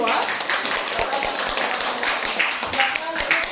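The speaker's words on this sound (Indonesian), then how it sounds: "tepuk tangan untuk kelompok 2" A classroom of students claps for a presenting group, a dense patter of hand claps with sharper individual taps mixed in, voices murmuring underneath.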